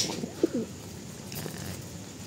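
Pigeons coo softly in a second-hand pigeon loft, one short low coo rising over quiet background noise, fairly close and otherwise calm.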